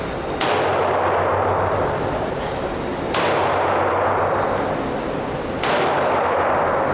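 Three loud, sharp 9mm Luger pistol shots ring out about two and a half seconds apart at an indoor range, each leaving a brief ringing decay and a low steady hum between reports.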